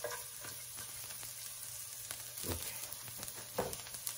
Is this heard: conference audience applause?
no